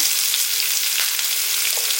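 Steady, loud sizzling of chopped onion frying in a hot pan, with a faint scrape of stirring and no voices.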